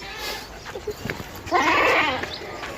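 A goat bleats loudly several times up close at a livestock market, with a long wavering call in the middle, as someone talks nearby.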